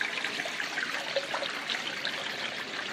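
Water trickles and streams steadily down a copper-plastic separator chute used for recycling copper wire, a continuous close splashing flow with no pauses.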